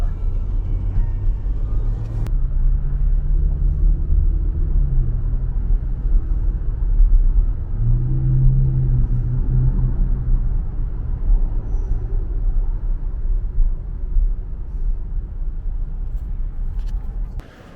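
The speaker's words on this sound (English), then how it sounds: "Yes, it's a car." A car passes on a Chicago street amid a low, steady traffic rumble, its pass swelling near the middle before fading, with a sharp click early on.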